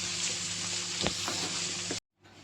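Steady sizzling of prawns frying in hot oil, a constant hiss with a brief clink, cutting off abruptly then resuming faintly.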